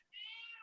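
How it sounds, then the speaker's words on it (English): A house cat gives a single short, faint meow, rising and falling over less than a second, alone with no talk over it. "The cat is visiting."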